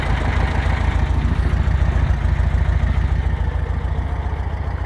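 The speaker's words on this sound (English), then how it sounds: "Engine's running lovely." A 1969 VW Beetle engine idles steadily at night, a low, even, throbbing rumble that stays constant and fairly loud throughout, with no voices.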